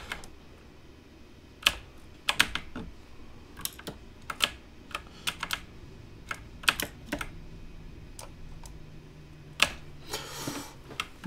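Keystrokes clack on a clicky mechanical keyboard, with irregular sharp taps and short flurries, close and fairly quiet over a low room hum.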